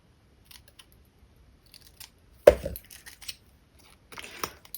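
A single loud snip of scissors cutting through card stock for a handmade triple-cube fun-fold anniversary card, with faint handling noises before and a brief rustle of paper afterward.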